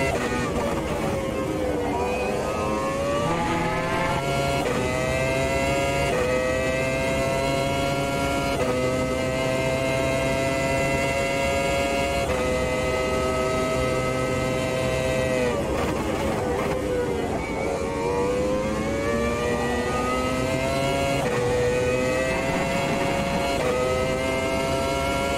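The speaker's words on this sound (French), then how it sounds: "comme j'adore cette Formula V10 et le son" A Formula V10 race car at full throttle on the Monza circuit in Automobilista 2, its loud, steady engine whine climbing through the revs and dropping at each gear change, with repeated shifts and no talk.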